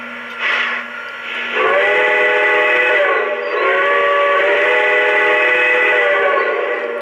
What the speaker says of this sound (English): All right, let's try the whistle.